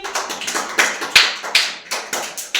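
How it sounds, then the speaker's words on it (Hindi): Children clap together for a girl named Riddhi during a classroom braiding activity, a burst of quick, uneven hand claps with several sharper slaps standing out, fairly close and with no talking over them. "रिद्धि के लिए तालियां बजाओ सभी।"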